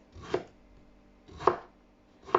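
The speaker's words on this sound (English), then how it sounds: "And this is my carrot. I'm just going to cut it this size." Knife chopping carrot into pieces on a board for Jamaican oxtail, three separate crisp thunks spaced about a second apart, close and clear with no talk.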